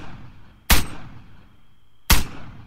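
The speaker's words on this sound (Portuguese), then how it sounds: "Vou deitar, velho, pra dar uns tiros mais precisos nesse maluco." Two sharp, loud rifle shots from the military shooter Arma 3, fired from a prone position in a battle royale match, spaced about a second and a half apart with a ringing tail after each.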